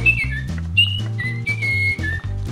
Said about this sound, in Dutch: Ik heb geaaid en gaat hij fluiten.